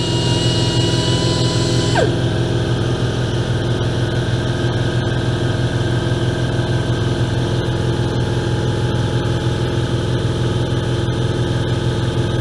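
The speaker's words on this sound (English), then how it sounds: "Now the compressor is running, you can't hear." An air compressor runs steadily in a workshop where a Stihl 026 chainsaw cylinder is being ported, a loud continuous drone with a higher whine that drops away after about two seconds, leaving a constant motor hum to the end.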